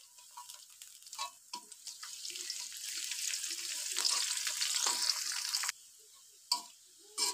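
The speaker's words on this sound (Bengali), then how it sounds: "পেঁয়াজ ভাজা হয়েছে" Onions and chopped garlic fry in a pan for a fish-stuffed pointed gourd dish, a steady close hiss that builds and then cuts off, followed by a few clinks of utensils.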